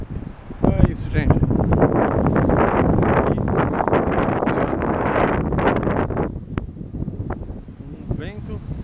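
Strong wind in San Sebastian, Spain, buffets the microphone as loud, continuous roaring gusts, with people talking over it.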